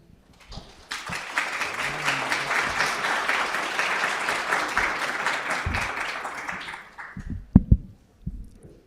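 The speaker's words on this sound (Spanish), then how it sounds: "para quienes pido un aplauso" An audience at a commemorative event applauds for several seconds, a broad, even roar of many hands that swells in and then fades, followed by a few brief knocks and the start of a voice.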